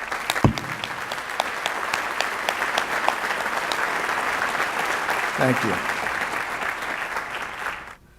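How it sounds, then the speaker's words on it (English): Sustained audience applause at a graduation ceremony, steady dense clapping with a few sharp nearby claps, fading out at the end; a voice speaks briefly near the start. "I would like you to give them a round of applause now with me."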